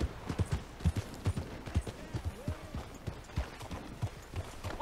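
Horse hooves clip-clop in a steady walking rhythm while riding in the video game Red Dead Redemption 2, fairly close and clear with no talk over them, and a faint whinny may surface briefly.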